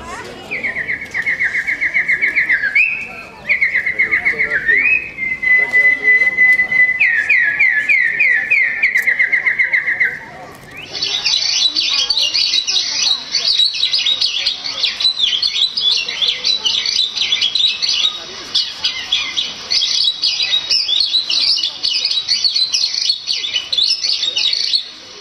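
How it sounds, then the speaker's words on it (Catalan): Birds chirping in loud, rapid trilling bursts that give way to a dense, continuous high twittering chorus, close and busy throughout, with no speech. "a poder escoltar el piular dels ocells"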